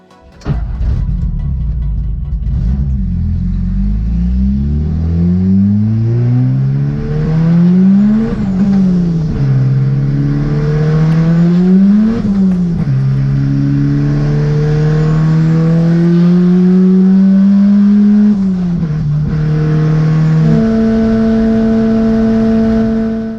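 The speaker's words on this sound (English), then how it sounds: "the car reaches the recommended warm-up speed of 160 miles per hour really quickly" A 2019 Volkswagen Jetta with a six-speed manual accelerates at speed across the Bonneville Salt Flats, its loud engine note rising steadily through the gears with brief dips at each shift, then settling into a sustained high-speed drone.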